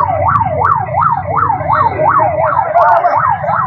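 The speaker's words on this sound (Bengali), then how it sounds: "আমরা দেখতে পাচ্ছি এখানে ফায়ার সার্ভিসের অ্যাম্বুলেন্স" A fire service ambulance siren wails at a motorcycle crash scene, a steady rising-and-falling sweep repeating about every third of a second, loud and close over low traffic rumble.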